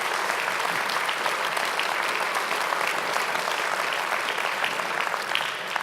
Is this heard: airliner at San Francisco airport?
no